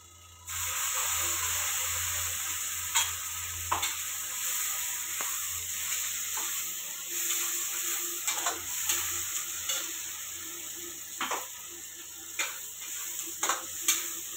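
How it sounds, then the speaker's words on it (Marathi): Ground masala paste frying in hot oil for a traditional dubuk vada curry, with a steady close sizzle and frequent sharp scraping taps of a spoon stirring in the pan. "मसाला पण तेलात चांगला परतून घ्यायचा असा."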